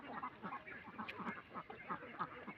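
Ducks on a duck farm quack in a dense, continuous chorus of overlapping calls, moderately loud and close, with no speech over them.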